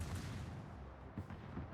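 The main guns of a Harugumo destroyer fire in World of Warships: a couple of deep, muffled booms less than a second apart, set against a low rumbling naval-battle background.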